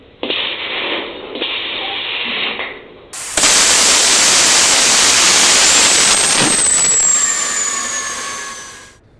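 Loud jet engine of the Bluebird K7 jet hydroplane starting up: a brief hissing burst, then a sudden roaring rush with a rising turbine whine that settles into a steady howl.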